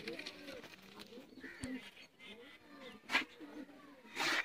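A pair of Sialkoti pigeons coos softly and repeatedly, close by, mixed with light rustles and a few sharp noises.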